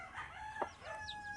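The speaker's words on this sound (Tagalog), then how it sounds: "May sisiw na rin tayo." Chicks chirp while being fed rice, with thin, high peeping calls in quick rising sweeps over a faint background, soft and fairly close.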